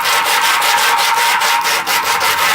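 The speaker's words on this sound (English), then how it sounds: "now I'm gonna sand the edge of the sled just to kind of make it dull so it's not as sharp" Hand sanding the cut edge of a Captain America shield with 262 grit sandpaper, a loud, close rasping rub that repeats in steady back-and-forth strokes.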